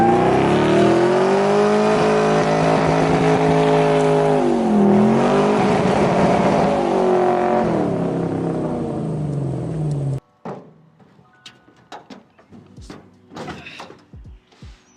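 An abandoned $200 junkyard muscle car being driven on the open road, its engine droning loudly and steadily with a dip and rise in pitch as it revs, then cutting off to near silence broken by scattered clicks and knocks.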